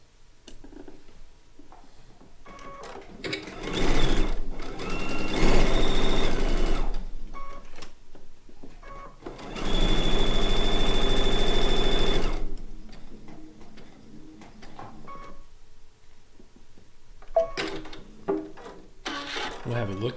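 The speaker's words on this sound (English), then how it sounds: "We're going to sew that in." Sewing machine sewing the seam of a chicken-shaped pin cushion, two loud close bursts of fast mechanical whirring separated by quiet pauses, with someone talking in between.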